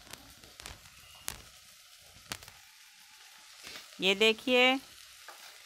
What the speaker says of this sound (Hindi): तो ये अदरक, लहसुन और प्याज की पेस्ट है, तो उसको अभी डाल रहे हैं।